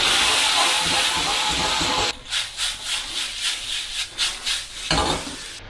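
Oil heating in an old non-stick wok for a beef stir fry gives a steady bright hiss that gives way to pulsing, rhythmic sizzles, then a fresh surge of hissing near the end.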